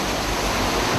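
Hurricane Katrina floodwater churns and surges in a loud, steady roar of rushing water and waves, broadband and continuous throughout with no voices.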